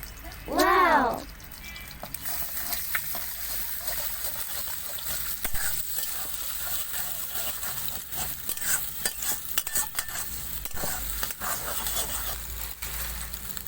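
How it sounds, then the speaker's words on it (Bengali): Three eggs frying in a pan for radish chowmein, a low continuous sizzle with occasional scraping of a utensil, preceded by a brief rising-and-falling tone at the start. "আমি ডিমটা ভেজে নিই"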